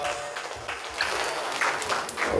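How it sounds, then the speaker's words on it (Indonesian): Applause from a crowd at an outdoor village religious talk, continuous and fairly even, with voices mixed in throughout the short burst. "tepuk tangan dulu dong"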